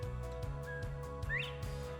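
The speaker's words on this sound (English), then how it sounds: "You can hear the bobwhite whistle out here outside our yard in our CRP field." Northern bobwhite quail whistling in a CRP field beside a yard: a single faint, rising whistle heard at a distance over a quiet, low outdoor hum.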